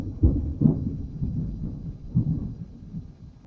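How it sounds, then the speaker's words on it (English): Thunder rumbling outside during a spooky slumber party, deep low booms rolling in and out in several muffled bursts, heard indoors at moderate loudness with no talking. "That was thunder outside."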